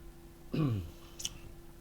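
A single throat-clearing cough from a man who is feeling unwell, a short rough burst followed a moment later by a brief sharp click, close to the microphone in an otherwise quiet room.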